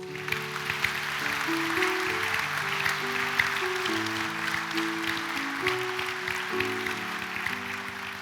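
Audience applause at a college diploma ceremony in Novo mesto, steady clapping throughout while background music with sustained tones plays underneath.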